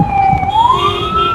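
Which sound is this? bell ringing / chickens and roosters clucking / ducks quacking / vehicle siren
vehicle siren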